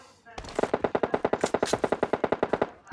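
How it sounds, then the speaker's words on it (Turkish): Rapid automatic gunfire from the video game PUBG rattles off in a fast burst of about twenty sharp, evenly spaced shots, loud and continuous for over two seconds with no talk over it. "Nereden vurdu o? Arkadaşımızı vurdular."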